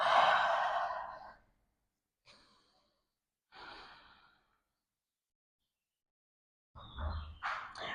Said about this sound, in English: Out through the mouth, exhale.